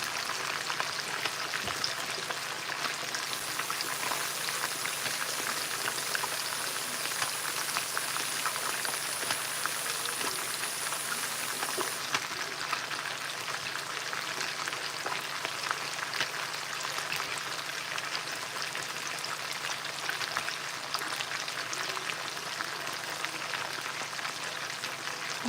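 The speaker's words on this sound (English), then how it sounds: "Adding the onion little by little so that some of it will be like still like hard and not all of it fried." Onion frying in a pan on a home stove, a steady, dense sizzle and crackle that runs unbroken throughout, fairly close, with no talking.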